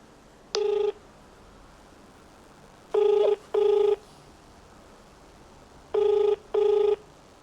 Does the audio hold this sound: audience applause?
no